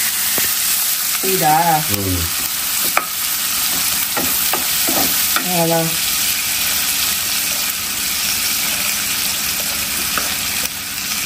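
Onions and chopped capsicum fry in hot oil for dragon chicken with a constant loud sizzle. A few short utensil clicks and brief voices cut in over the hiss.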